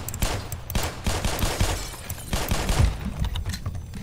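Rapid gunfire in Black Mesa: dense bursts of shots crackle continuously for several seconds, loud and close, with sharp impacts and breaking debris mixed in.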